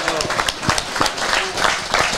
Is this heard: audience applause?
yes